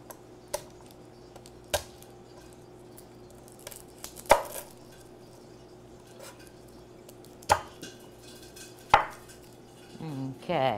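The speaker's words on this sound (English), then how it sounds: "But we're going to get all this chopped up" Knife chopping garlic and vegetables on a board, sparse crisp single knocks at irregular intervals over a low steady hum, ending in a quick flurry of faster cuts, with no voices.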